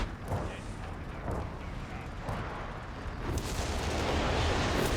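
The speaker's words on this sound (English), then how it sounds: "That's like 4 walking Stuka barrages or more." Dense walking Stuka rocket barrage in the Company of Heroes 3 video game, a continuous loud roar of overlapping booms and blasts that swells and rumbles heavily toward the end.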